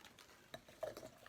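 Baking soda being stirred into freshly boiled water, likely in a large container: faint, quiet scraping and light clinks from a few irregular stirring strokes, with no talking.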